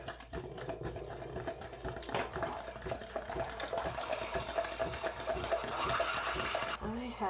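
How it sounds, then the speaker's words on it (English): Maple butter stirred into frothed milk from a Ninja Luxe Café machine, a steady whirring and swishing churn with rhythmic clicking and liquid movement, sustained throughout. "while we do that, we'll stir in our maple butter"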